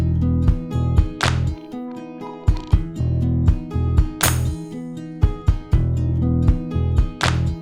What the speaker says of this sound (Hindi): मेरे पास एक दूसरा अरेंजमेंट है जहां पे मैंने एक एकूस्टिक गिटार को रिकॉर्ड किया, और ये एकूस्टिक वाइब है।